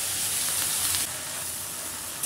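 Taro stolons go into sizzling masala with a hilsa fish head in a pan, a loud, hissing sizzle nearby that abruptly quiets and settles into a softer hiss.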